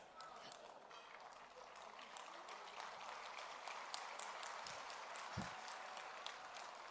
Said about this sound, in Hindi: हाँ तो ताली बजाइएगा या धीरे से बजाइएगा।